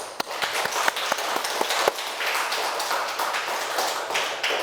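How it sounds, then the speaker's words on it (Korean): A church congregation claps during a sermon, a dense, steady patter of many hands with a few sharper isolated claps, filling the room at moderate loudness with no talking. "하나님께 우리 영광의 박수를 돌려드리십시다."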